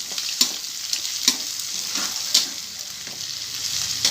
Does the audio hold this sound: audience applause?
no